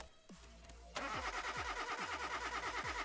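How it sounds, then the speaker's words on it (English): A car engine cranks briefly, pauses, then catches with a sudden loud start and settles into a rough, evenly pulsing idle close by. "This car does start."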